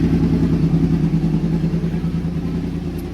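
A 2014 Yamaha R1 idles while warming up, a loud, close, steady low engine rumble with an even pulsing beat that eases slightly toward the end, with no talking.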